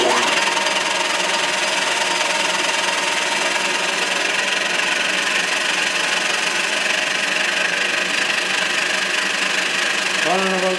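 A metal lathe fitted with a steady rest runs at about 1600 RPM, giving a loud, steady mechanical hum and whine that continues unbroken for the whole stretch, with a small shift near the end.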